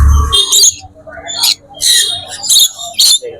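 Pineapple conures at a bird market, sharp bursts of squawking calls repeating in short clusters, with a voice speaking among them.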